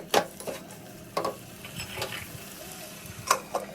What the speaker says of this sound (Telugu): ఇవన్నీ వేసుకున్న తర్వాత మొత్తం ఒకసారి కలిపేసుకోవాలి